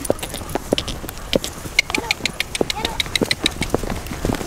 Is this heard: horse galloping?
yes